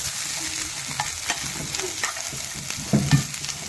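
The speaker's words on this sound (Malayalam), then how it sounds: "അപ്പം നമ്മുടെ മുളകും കറിവേപ്പിലയും കാന്താരിയും തേങ്ങാക്കുത്തും ചെറിയുള്ളി എല്ലാം മൂത്തിട്ടുണ്ട്" Chillies, curry leaves, bird's-eye chillies, shallots and coconut bits fry in a pan with a close, steady sizzle, broken by spatula scrapes and stirring knocks, a couple louder near the end; no talking.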